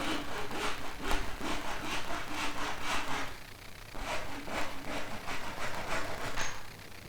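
A hand saw cuts through a wooden dowel with quick, rhythmic back-and-forth rasping strokes, close and clear, a short pause midway before the sawing resumes at the same steady pace.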